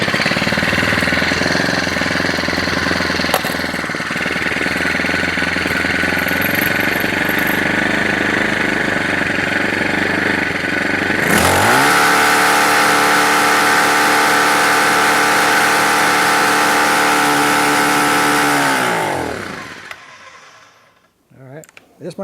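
A Troy-Bilt TB425CS string trimmer's small two-stroke engine runs loud and steady, with a harsh, buzzy high-revving tone that drops to a lower, smoother idle partway through, then shuts off and falls quiet near the end.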